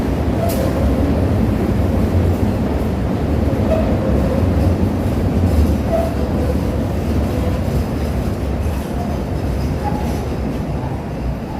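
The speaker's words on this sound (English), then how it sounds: "There's the L going down Wabash there." A Chicago L elevated train rumbles along the tracks over Wabash, a loud continuous roar of wheels and cars with faint rhythmic clicks and occasional squeals, heard close and alone.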